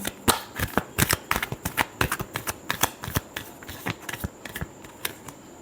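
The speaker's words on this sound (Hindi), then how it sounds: "Last shuffle." Tarot cards are shuffled by hand in a steady series of crisp, rapid riffling snaps and taps, close and clear with no talking.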